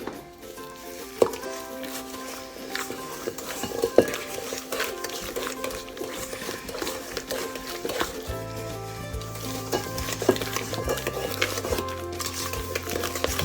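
Wooden spoon stirring chocolate chip cookie dough with beaten eggs and vanilla in a sturdy bowl, repeated scraping and knocking against the bowl, close, with a low steady hum starting partway through.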